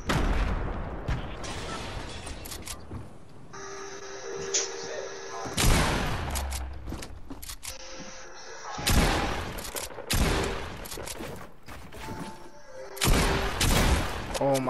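Shotgun blasts in a Fortnite-style shooter: several loud, sharp bursts spaced a few seconds apart, with a hard crack and brief decay. They come among game effects and a faint electronic tone, and players talk between shots.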